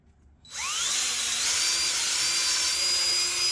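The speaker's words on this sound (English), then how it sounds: "drill a hole in the board" A power drill boring through a board spins up quickly from silence, its whine rising in pitch, then keeps running loud and steady at high speed.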